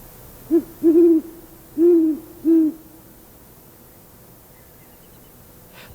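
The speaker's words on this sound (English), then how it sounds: "The owl's hoot is easily recognized." A great horned owl gives four deep, resonant hoots in a steady, slightly uneven rhythm, close and clear against quiet background, then falls silent.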